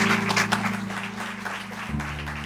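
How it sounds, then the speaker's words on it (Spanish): A church congregation applauds with a dense, continuous wash of clapping over a sustained organ or keyboard chord that shifts near the end. "Dele un aplauso al Señor"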